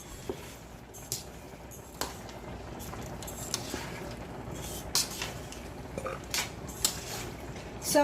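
Broccoli being tossed in a cooking pan during a beef broccoli with noodles dish: soft scraping, clatter of utensil against pan, and occasional light clinks over a low background.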